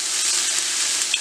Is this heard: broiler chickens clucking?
no